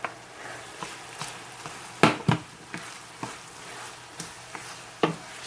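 Rice poured into a pan of seasoned meat, a soft crackling sizzle with scattered sharp clatters and scrapes of a spoon against the pan, close and without talk.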